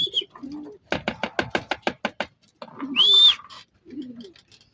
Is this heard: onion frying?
no